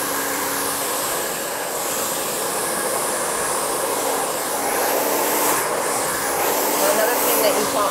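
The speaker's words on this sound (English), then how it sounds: "then you wanna take your blow dryer into the hair" A handheld blow dryer drying hair after the head has been flipped over, a steady close broadband whoosh of air holding at one level for the whole stretch, with faint talk mixed in.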